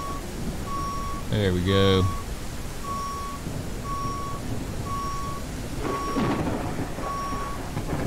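A fire truck in the firefighting game Into the Flames sounds steady, evenly spaced reversing beeps as it backs in, with a storm's rumble and rain underneath and a brief voice over the first beeps.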